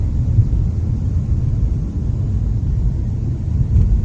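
Infiniti Q45 V8 car coasting toward a red light, heard from inside as a steady low road and engine rumble with no other sounds.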